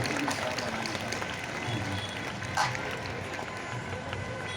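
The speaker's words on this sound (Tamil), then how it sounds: "கைத்தட்டுவோம், நாம் ஆயரை நாம் வாழ்த்துவோம்." A crowd at a Catholic feast-day Mass at the Our Lady of Lourdes shrine in Chetpet applauds to honour the bishop: a dense, continuous, moderately loud burst of clapping with crowd noise mixed in.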